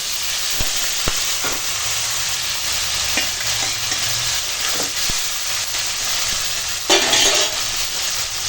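Cumin, ginger and garlic paste with dried eggplant, papaya and sweet potato fry and get stirred in a hot pan, a steady close sizzle with occasional scraping taps and a louder hiss burst near the end.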